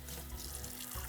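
Tap water runs in a steady, faint stream over leeks in a kitchen sink, a soft continuous splash with no voices.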